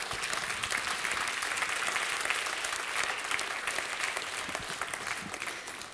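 Sustained audience applause at a research awards ceremony, Forskningens Dag 2019, honouring the researchers who shared their knowledge; dense, steady clapping from a full room lasts the whole stretch at an even level, tapering slightly near the end.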